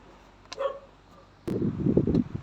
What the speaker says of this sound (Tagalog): Shoutout po sa aso na maingay.